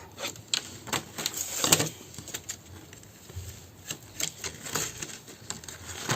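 Scissors snip paper for a mini box craft, with a steady run of close, crisp cuts and rustling handling, and no talk.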